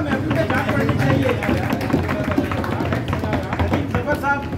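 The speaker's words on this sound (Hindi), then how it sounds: "रफीक मजीद भाई जनाब तालियां वालियां बजाएं" An audience applauds at a dinner gathering held in recognition of Dr. Naeem uddin Kanw. Steady, dense clapping fills the room throughout, with voices talking over it.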